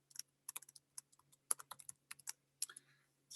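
Someone types on a computer keyboard, producing an irregular patter of crisp, close key clicks in short bursts against a quiet room, with no voices.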